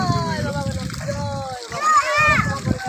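Water splashes and sloshes over a Ganesh idol during its immersion ritual, steady pouring and splattering under women's and children's chatter close by.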